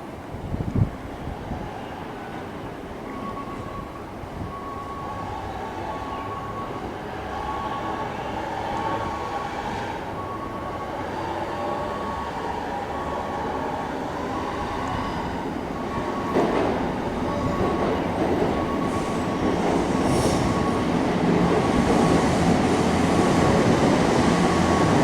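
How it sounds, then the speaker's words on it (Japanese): An Odakyu Line local train arrives at Yoyogi-Uehara station just after service resumed following a typhoon: a rumble builds steadily louder as it draws in, with a faint steady tone and wind noise and no talking. "各駅停車本厚木行きが到着をいたします。"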